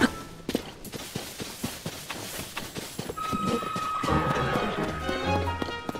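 Horse hooves clip-clop in a steady, close rhythm in The Legend of Zelda: Tears of the Kingdom, then fade under a swelling musical tone and ambient game sounds.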